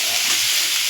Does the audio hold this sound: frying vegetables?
yes